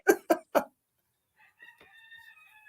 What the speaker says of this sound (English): That was my rooster.